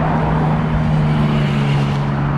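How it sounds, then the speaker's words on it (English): A car engine drones steadily on a nearby road in the New Forest near Brockenhurst, a loud constant low hum with no breaks. "The car's behind us on this road somewhere. Very noisy."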